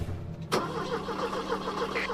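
A stalled car's engine is cranked and restarted, a sharp burst at about half a second giving way to a steady, close mechanical running hum that continues to the end.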